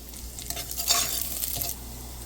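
Cinnamon, cloves, cardamom and garlic sizzle and crackle in hot ghee in a pressure cooker while being stirred, with a steady close frying hiss.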